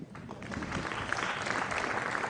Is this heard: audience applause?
yes